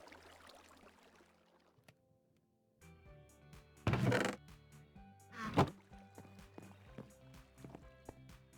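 Water splashes and sloshes as a small boat moves in a video game, with a couple of louder splashes in the middle over a soft steady musical background.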